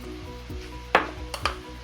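Spoon stirring cheese into rigatoni in a pan while sausage cooks nearby, giving a few sharp scrapes and clanks over a faint steady sizzle, close and moderately loud.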